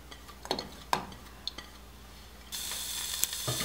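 Onions tumble into hot oil in a pan while making Tirunelveli-style sambar: a few clinks and scrapes of utensils, then a loud, steady sizzle that surges up and holds to the end.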